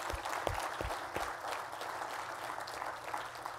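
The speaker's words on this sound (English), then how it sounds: "By the way, a round of applause." An audience at a NASBA conference session applauds steadily for a few seconds. The clapping is a broad, even wash with a few heavier claps near the start, and no one speaks over it.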